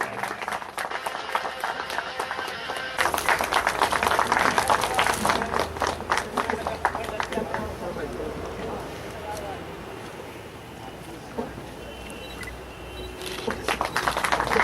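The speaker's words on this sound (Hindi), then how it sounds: "एक बार जोरदार तालियां" Crowd applause at a public Power Grid programme event in Damoh, Madhya Pradesh, a dense burst of many hands clapping that swells, thins out midway, then picks up again, with voices in the background.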